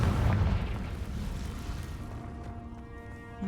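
A Confringo fire spell in the Hogwarts Legacy game lands with a loud, close explosive boom that rumbles and fades away over a few seconds.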